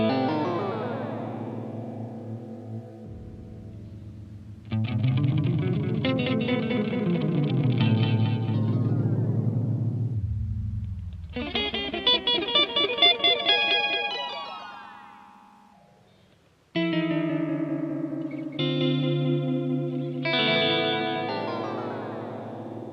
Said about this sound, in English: this is using the twist delay module, and I've got foot switch A attached to the speed and direction